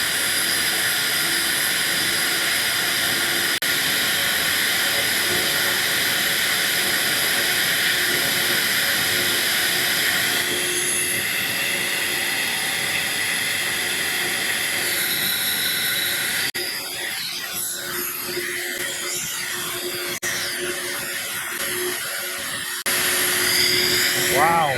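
A steady, loud roaring hiss of air drawn through an epoxy-modified Holley carburetor on a flow bench, dropping and becoming rougher partway through before surging again near the end.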